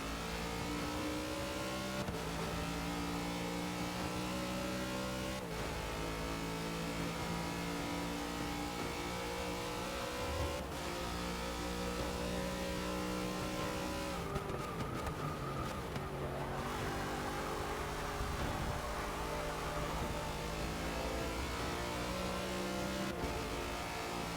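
Race car engines roar continuously in Forza Motorsport 6 at the Bathurst endurance race, the revs climbing and dropping through repeated gear shifts, with a brief burst of harsher noise midway; no one speaks.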